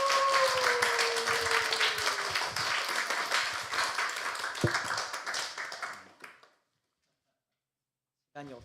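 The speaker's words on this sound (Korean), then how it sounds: "우리 전도사님 나오실 때 우리 큰 박수로 우리 하나 하겠습니다." A church congregation applauds as a preacher comes forward for an Easter resurrection sermon, a dense sustained roomful of clapping that fades out, then silence before a voice begins.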